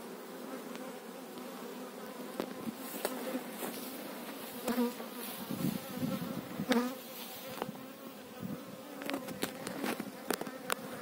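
Honeybees buzzing around a row of beehives near flowering lavender, a dense humming swarm close to the microphone with individual bees swelling louder as they pass, punctuated by soft clicks and handling noises.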